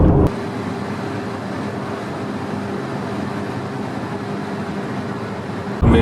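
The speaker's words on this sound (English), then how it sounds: "And I get to drive this 2016 Audi TT, which is pretty awesome" A 2016 Audi TT driven in Germany gives a steady, moderate hum of engine and road noise heard from inside the car, with no talking.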